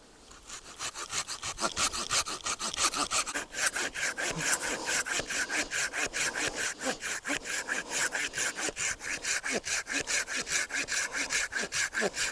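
A pruning saw cutting through a tall cherry tree branch, a fast, even back-and-forth rasp of teeth biting wood, close and loud, repeating steadily for many strokes after a brief start.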